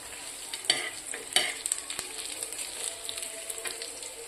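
Onions and dried coconut roasting in a pan over a high flame for an Andhra-style curry, a close, steady crackling sizzle with scraping stir strokes and a few sharper clinks, no talk.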